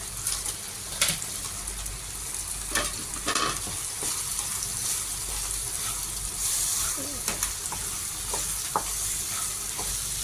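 Frozen mixed vegetables sizzle loudly in tomato sauce in a pan, with a continuous frying hiss, scraping stirs and occasional sharp clinks throughout.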